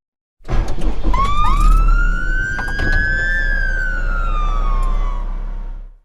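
A fire truck siren wails loudly nearby during an emergency evacuation in Seligman, Arizona, rising and holding a long tone over a rumbling engine, with a few sharp clanks at the start.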